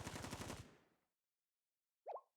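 Gunfire in the Blue Archive game, a rapid burst of automatic shots that fades out over a second, followed after a pause by one short, quieter sharp sound.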